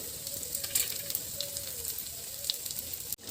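Poppy seeds and spices crackle in hot oil alongside garlic, cloves and a cinnamon stick, a dense close sizzle with scattered pops and a sharp clatter near the end.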